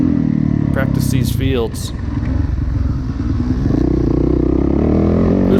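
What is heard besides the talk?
dirt bike engine revving as rider throttles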